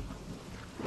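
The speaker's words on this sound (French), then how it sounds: "La pluie est en train de tomber à l'intérieur." Rain falls indoors through an open window, a faint, steady patter and wash of drops with a low rumble underneath, lasting under a second.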